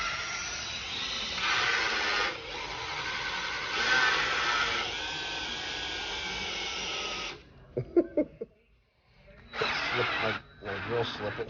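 An electric drill whirs steadily for several seconds, priming the oil system of a rebuilt Ford Y-block 256 cid Interceptor marine engine through an old distributor shaft. It stops, stutters briefly, then runs again.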